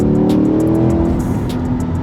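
A 2020 Chevrolet Corvette mid-engine sports car's engine roars loudly up close as it accelerates, the pitch climbing steadily with the revs.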